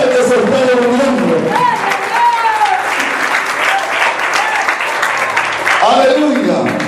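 A church congregation claps loudly and continuously during a revival service, dense applause filling the room while a voice talks and exclaims over it.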